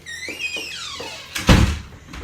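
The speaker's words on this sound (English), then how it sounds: "the wind's blown the door open" A door blown open by wind during an online sway-and-stretch session, with a creaking hinge squeal sweeping down, then a loud thunk as it swings and knocks, followed by fainter rattling.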